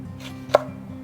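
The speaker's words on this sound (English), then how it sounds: "Cut the jalapeno and red spice pepper." A knife makes a single crisp chop through jalapeno and red pepper on a cutting board, close and distinct against a quiet low background.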